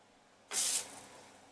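A sudden burst of bright hissing sizzle flares up as food hits hot oil in a pan, then settles into a quieter, steady fizz.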